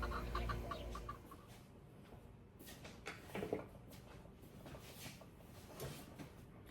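Backyard chickens cluck softly and intermittently in the background, a low steady farmyard murmur with a few slightly louder calls, no talking.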